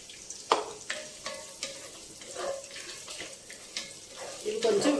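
A blended paste of mint, coriander and green chili frying in a pan, with a watery hiss and repeated scraping stirs at a steady rhythm, close and moderately loud.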